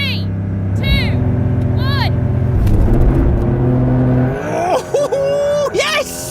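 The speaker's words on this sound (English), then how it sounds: "let's see who can press the accelerator the hardest" A new Porsche 911 holds a steady, loud engine note, then launches hard from a standstill, its rising engine whine climbing through the revs while excited voices talk and cheer over it.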